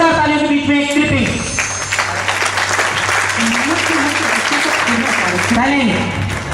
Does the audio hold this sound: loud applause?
yes